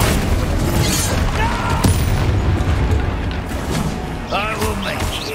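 A fiery Incendio spell blast from the Hogwarts Legacy video game bursts out as a booming crash amid ongoing combat noise, with further whooshing impacts and crackles following closely.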